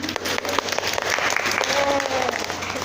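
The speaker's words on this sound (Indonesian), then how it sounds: "Beri tepuk tangan dulu temannya" Classroom applause for a student group called to the front during a chemistry lesson on electrolyte solutions: a dense, steady burst of many hands clapping throughout, with some voices mixed in.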